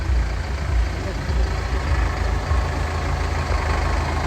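A tractor engine idles with a steady, close, low rumble that runs unbroken from start to finish, with no other sound standing out over it.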